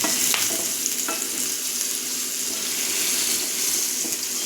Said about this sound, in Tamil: மசாலா அவ்வளோதாங்க, வதங்கட்டும்.